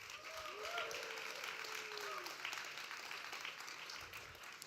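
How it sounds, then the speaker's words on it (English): Audience applause at a team and individual championship semi-final event, a steady wash of clapping that holds for nearly five seconds at moderate, distant level, with faint voices mixed underneath. "let's get a big round of applause for them"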